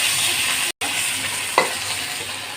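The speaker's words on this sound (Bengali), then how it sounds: "চাপা শুটকি দিয়ে নিল, এগুলো ভেজে নেব।" Three medium-sized dried fish (shutki) frying in a pan with onions give a continuous close sizzle, broken by a momentary dropout and a sharp clink of stirring partway through, with no speech.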